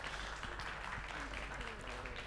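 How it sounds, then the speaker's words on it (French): Audience applause in a French amphitheatre event on peasant agriculture, a steady, fairly faint wash of clapping running throughout with some voices mixed in underneath. "on peut l'applaudir aussi"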